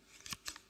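Garden shears opened and closed by hand, a few quiet metallic snips and scrapes in quick succession, close and alone.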